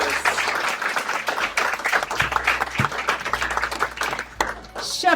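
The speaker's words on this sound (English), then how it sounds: "A round of applause for our chef" Applause from a dinner audience at a murder mystery dinner, honoring Chef Gary Lucas, runs steadily through the whole stretch, with people talking and murmuring over the clapping.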